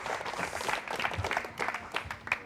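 Studio audience clapping on an Indonesian television variety show after a singer's performance, a brief burst of moderately loud, uneven applause with some crowd noise mixed in.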